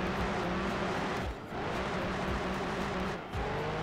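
An Opel Calibra engine from the Gran Turismo 2 racing game drones steadily at high revs, with pitch rising and dipping around two brief drops in volume, alone with no talk.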